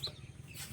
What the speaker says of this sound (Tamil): கோழியை பிடி.